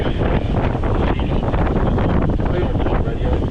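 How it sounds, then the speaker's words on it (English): Strong wind roars across the microphone aboard a sailboat with one reef in the main on a passage in New Zealand, a loud continuous buffeting rush that persists throughout. "These winds are gnarly."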